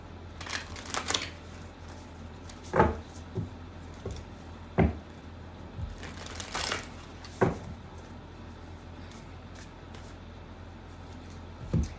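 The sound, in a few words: cutting and shuffling a deck of cards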